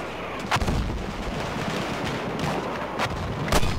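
Hunter shotgun blasts in Battlefield 1's Argonne Forest conquest battle, several sharp booming shots spaced irregularly over a dense roar of surrounding gunfire and explosions.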